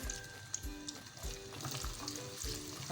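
Chopped medium onion frying in about half a cup of hot oil in a kadai, a steady close sizzle with occasional stirring scrapes and clinks throughout.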